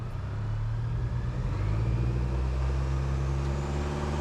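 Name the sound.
off-road vehicle driving slowly in low first gear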